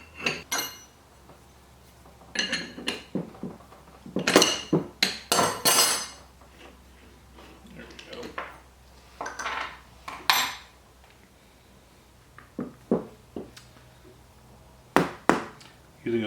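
A soft blow hammer taps on the metal parts of a Brown & Sharpe dividing head during disassembly, giving scattered sharp metallic knocks and clinks in irregular bursts, close by, with quiet pauses between.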